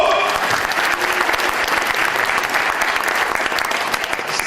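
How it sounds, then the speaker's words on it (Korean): Graduates and guests applaud at a Wonkwang University architecture department 40th anniversary ceremony, a dense, steady burst of many hands clapping that fills the room for several seconds. "다시 한번 박수로 마음 가져봅시다"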